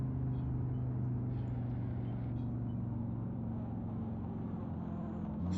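A McLaren race car engine in Assetto Corsa holds a steady, droning hum throughout, with a constant low-pitched tone and no clear rev changes.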